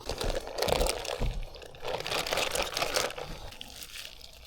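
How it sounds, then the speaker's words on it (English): Milky acrylic waterproof sealant coating poured from a crinkly bag into a container, with plastic rustling and crackling over a soft, uneven liquid slosh, close and moderately quiet. "So let's open this bag up, pour it in here"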